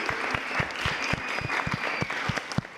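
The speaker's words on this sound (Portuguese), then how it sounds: "Vamos aplaudir esses casais, gente." A studio audience claps for couples who shared their stories about marriage, a lively, steady round of applause with distinct individual claps close by.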